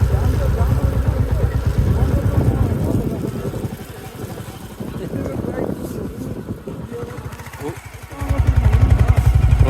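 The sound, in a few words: motorcycle riding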